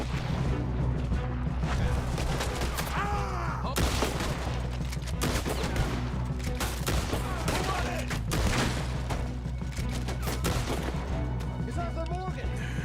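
Rifle gunfire in the video game Red Dead Redemption 2, sharp shots cracking repeatedly over a dense, busy game soundscape of crashes and booms, loud and close throughout.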